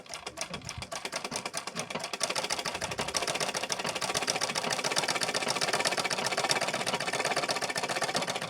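A sewing machine stitches a blouse with a fast, steady mechanical whir and rapid needle ticking, close up. It starts with a few uneven bursts, then settles into continuous running.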